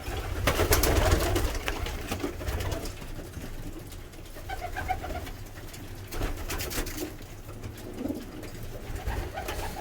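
Pigeons coo repeatedly in a loft, the soft throaty calls overlapping against a steady low background rumble, with no talking.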